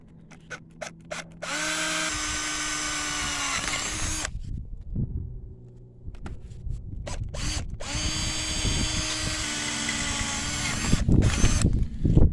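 A power drill whines steadily in several bursts while drilling holes for a tachometer install, pausing between runs, with clicks and handling noise in between; loud and close.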